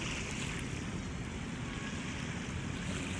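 Sea at Manila Bay at low tide with the water starting to rise: a steady, broad wash of surf mixed with wind rumble against the microphone, continuous and moderately loud, with no voices.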